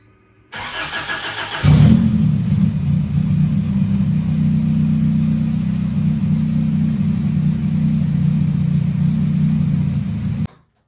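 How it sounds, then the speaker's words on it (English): A Honda CRX project car cranks briefly with the starter whirring, then catches and settles into a steady, somewhat rough low idle close to the mic that runs for about nine seconds before cutting off. "I'll go ahead and start it up and let you hear it."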